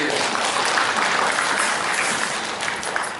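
A conference room full of people at a hotel convention in Gumi, South Korea applauds steadily, a dense continuous patter of clapping that holds at the same level throughout.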